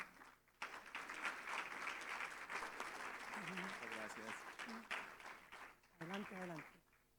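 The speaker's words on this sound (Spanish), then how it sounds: "Démosles un caluroso aplauso" Sustained applause from a conference panel audience, with voices speaking in Spanish over the clapping in the second half.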